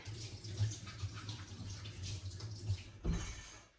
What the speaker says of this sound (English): Now I just need to wash my hands real quick